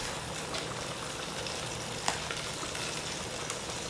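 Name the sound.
cracked cumin sizzling in a pan for lentil soup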